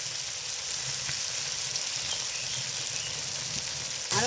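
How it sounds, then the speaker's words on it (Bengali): Spice masala fries in hot oil with a continuous, even crackling sizzle, soft stirring touches underneath, and a brief louder burst of frying at the end. "ভালোভাবে মশলাটা কষে নেব"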